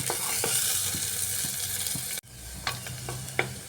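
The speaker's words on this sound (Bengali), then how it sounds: "এইভাবে পেঁয়াজটা দিয়ে আমি একটু সময় ভেজে নিচ্ছি" Onions fry in a pan for a soybean and kidney bean ghugni, a steady sizzle with scattered spoon knocks and scrapes, briefly cut off midway and then resuming with a few sharper clinks.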